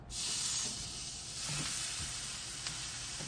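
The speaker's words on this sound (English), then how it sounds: "Now I'm ready to give me a sear." A sous vide pot roast sears in a hot pan with a loud, close, steady sizzle and hiss that holds without a break, with a few faint clicks and no talk.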